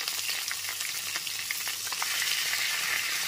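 Sliced pointed gourd fries in hot oil in a pan while being stirred, a dense close sizzle with scattered scraping and crackling bursts, steady throughout and with no voices.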